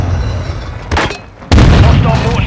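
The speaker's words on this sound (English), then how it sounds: "Hostile mortar strike in the area" Two mortar explosions in the Call of Duty: Modern Warfare II battle-royale mode, the first a short burst and the second a louder, heavier blast about half a second later, followed by lingering rumble and battlefield noise.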